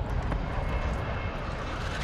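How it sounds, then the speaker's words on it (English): A helicopter in Call of Duty Warzone 2.0 gives a steady, loud engine and rotor roar that fills the whole stretch without a break. "Oh, helicopter."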